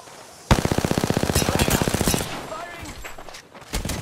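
Rapid automatic fire from a CAR SMG in a video game, a fast steady burst of close, loud shots lasting under two seconds, then quieter game sounds and a brief later noise.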